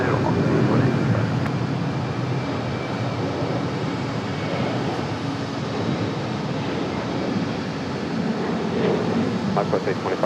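An airliner, Moxie flight 2855, taking off from runway 23 left at Raleigh-Durham International, a steady broad jet roar heard at a distance and holding even throughout, with radio chatter spoken over it.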